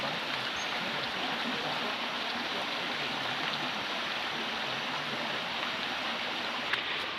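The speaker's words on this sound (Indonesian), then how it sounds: "Ini batang airnya." Steady broadband rush of a stream flowing near Duo Bidadari waterfall at Koto Baru, Sungai Tarab, a continuous close wash of water with no pauses and a faint voice briefly in the background.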